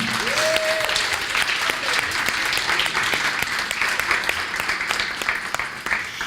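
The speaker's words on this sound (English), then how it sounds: "Let's give them another round of applause." Sustained audience applause for a group of book co-authors, loud and dense with crisp individual claps standing out, holding steady for about six seconds before easing slightly at the close.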